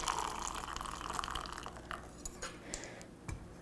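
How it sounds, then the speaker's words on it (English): Boiled water poured into a glass, a steady close stream that thins out into a few scattered drips and small splashes toward the end, with no one speaking. "So you take some boiled water and you just pour it into the glass,"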